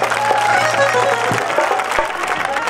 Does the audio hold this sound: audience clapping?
yes